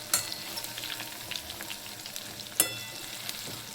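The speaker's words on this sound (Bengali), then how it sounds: "ছাড়া হয়ে গেছে, এবার ভাজা হলে দেখাচ্ছি।" Chicken popcorn deep-frying in hot oil for a homemade KFC-style snack, a steady bubbling sizzle with a couple of sharper spattering pops, alone without talk.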